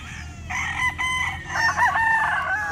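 A gamefowl rooster crows nearby, one loud, clear drawn-out call with a rising then wavering pitch, over faint background noise and no talk.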